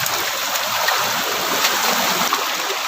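A lush jungle river near a waterfall, steady close rushing water with a broad, even hiss and gentle gurgles that carry on without a break.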